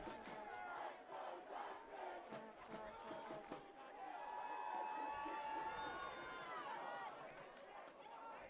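A high school football crowd yells and cheers, a broad roar of many voices from the stands that swells midway, while an announcer talks over it.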